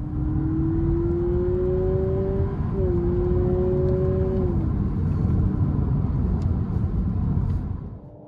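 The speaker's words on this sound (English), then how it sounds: "you get the sound of an engine revving and changing gear as well" Inside a 2022 Honda Civic, a simulated engine note climbs steadily as the car accelerates, dips at a gear change, then rises again over a constant low road rumble before fading at the end.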